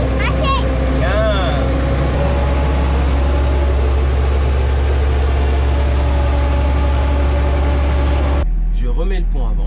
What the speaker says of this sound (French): est-ce qu'on va aller faire un tour tracteur?